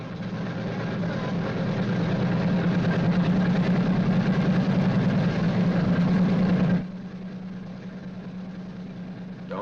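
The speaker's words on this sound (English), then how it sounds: "continue to prime intermittently until the engine is running smoothly" Boeing B-29 bomber engine running, a loud steady low roar and drone that drops suddenly to a quieter, lower hum near the end.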